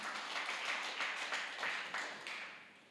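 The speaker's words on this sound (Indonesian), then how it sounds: "Kasih tepuk tangan bagi Tuhan." Congregation clapping during a church worship service, a sustained wash of many hands with rhythmic swells in unison, moderately distant and fading at the end, no voices over it.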